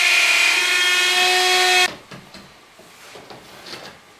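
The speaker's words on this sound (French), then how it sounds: "Là, je vais percer avec une mèche de 6." Power drill boring a hole with a 6 mm bit during a kitchen renovation, a loud close steady high whine for about two seconds that stops abruptly, followed by quiet handling clatter.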